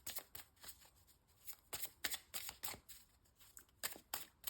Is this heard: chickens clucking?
no